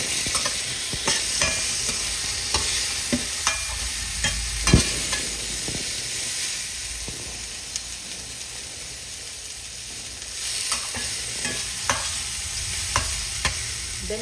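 Bitter gourd (ampalaya) stir-fries in a pan, giving a constant bright sizzle and hiss broken by repeated sharp scrapes and clacks of the spatula, close and fairly loud.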